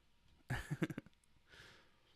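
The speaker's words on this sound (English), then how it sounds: "I'm gonna cough now" A short, quiet burst of coughing, a few rapid hacks close by, followed by a soft breath in a hushed room.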